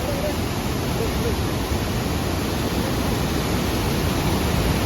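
Rain-fed river water in Idukki surges past in a constant, loud, hissing roar that stays unbroken throughout, close by and with no voices on top.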